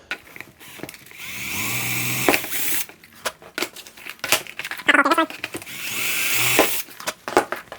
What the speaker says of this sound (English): Get yourself a drill and then just pop a hole through the shape.